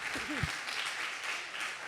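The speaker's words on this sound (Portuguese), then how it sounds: "Aplauda o Senhor." Church congregation applauding steadily for about two seconds as a dense wash of hand claps, with a brief spoken voice near the start.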